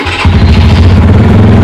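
A Keeway RKF 125 motorcycle engine kicks in after a brief pause and runs steadily, a loud, close, throbbing low rumble with no voices.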